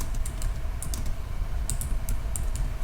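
Keys clatter on a computer keyboard in short irregular bursts of taps, close and fairly clear over a steady low background hum, with no voices.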